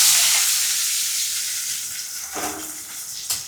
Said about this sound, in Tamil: கடுகு வெந்தயம் வந்து லைட்டாக சீரகம் சோப்பு சின்ன வெங்காயம் கருகப்பிள்ளையை அதில் சேர்த்துக்கலாம்